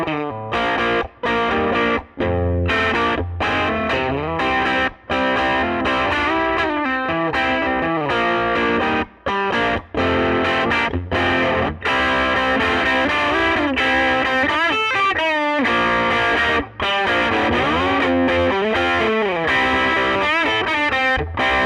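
A Gibson Les Paul Jr electric guitar with a single pickup, played loud and continuously with a distorted, effects-driven tone, chords and riffs sounding up close for about twenty seconds with brief gaps between phrases.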